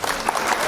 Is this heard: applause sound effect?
yes